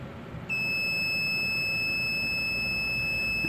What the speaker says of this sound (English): you're going to hold it until it does all beeps